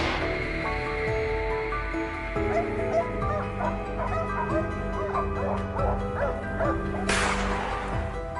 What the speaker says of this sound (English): it was a large boar trying to break free from a circle of hounds